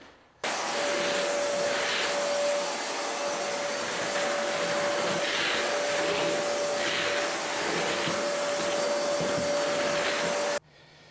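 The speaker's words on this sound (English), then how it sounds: "I'll just get this hoover and try and hoover up the fine dust that I wasn't able to brush" A hoover runs steadily while sucking up fine dust from a floor, a loud, close, continuous whine and rush for about ten seconds that starts and stops abruptly, with no voices.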